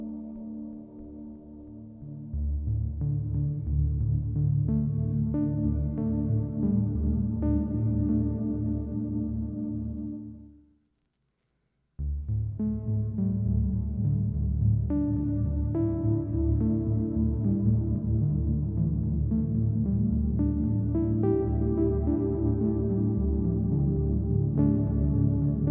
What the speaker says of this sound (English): Again, that's no delay. That's just the reverb.